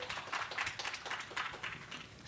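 A small audience at a student network panel applauds the Asian designers with steady, fairly faint clapping that carries on evenly throughout, with no voices.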